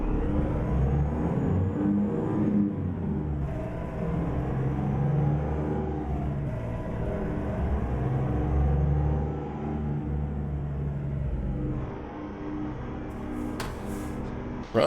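An International 9800 truck in American Truck Simulator pulls away with a steady low engine rumble and drone, holding loud and even before easing off near the end, with no talking.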